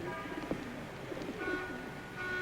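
Pigeons coo softly in a quiet indoor setting, low repeated throaty calls rising and falling over a faint background hiss, with no voices.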